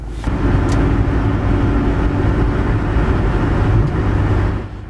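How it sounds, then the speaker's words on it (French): A car cabin fills with loud, steady low road rumble while driving on newly replaced rear wheel ball bearings. The drone holds unbroken for several seconds, with no voices. "il y a tellement de bruit dans cette voiture"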